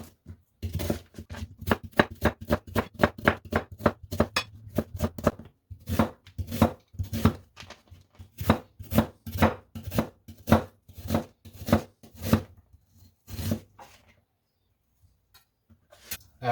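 Onions diced into small cubes with a knife on a cutting board for Algerian mhajeb, a close rapid run of sharp chopping taps that slows into steady evenly spaced cuts, then a few scattered knocks, no talking.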